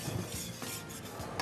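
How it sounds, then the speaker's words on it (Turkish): Soft scraping and stirring of flour roasting in a pot for tomato soup, a quiet gritty rubbing with a few light clinks of a utensil. "yavaş yavaş unumuzu kavuracağız şöyle"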